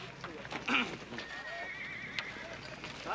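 A horse whinnies in a Western ranch setting, a loud rising neigh standing out over a busy background of hooves and faint voices, with a long high tail trailing off.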